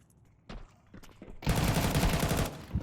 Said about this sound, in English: Shots there from Gotomi.